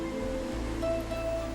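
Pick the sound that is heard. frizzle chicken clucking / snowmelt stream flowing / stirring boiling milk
snowmelt stream flowing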